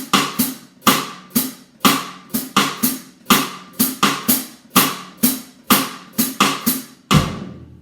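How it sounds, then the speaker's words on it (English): Bossa nova clave pattern played on a drum set, sharp repeated strikes in a steady syncopated rhythm, close and clear with no talking. "there's many ways that you can play the Bossa Clave pattern"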